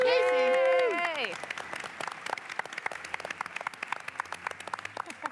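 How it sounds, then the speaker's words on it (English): An audience at a Nobel Conference theatre performance on public policy breaks into applause after someone speaks briefly, with lively, scattered clapping that carries on steadily for several seconds. "Big round of applause, Colleen Casey."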